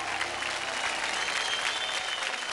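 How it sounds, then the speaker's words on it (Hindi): An audience applauds at a televised children's dance show, a dense steady clapping that fills the whole short stretch at moderate loudness. "जोरदार तालियां हो जाए टेरिया के लिए"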